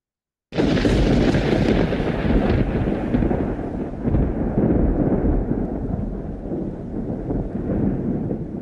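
A thunder sound effect played during a talk about Rivière-au-Tonnerre on the Côte-Nord: a loud, broad rumbling crash that bursts in abruptly, then rolls on steadily with slowly fading intensity, with no voices over it.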